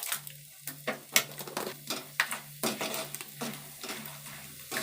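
Peanuts and chana dal crackle in hot tempering oil for lemon pulihora, with repeated sharp stirring clinks and scrapes against the pan over a steady low sizzle.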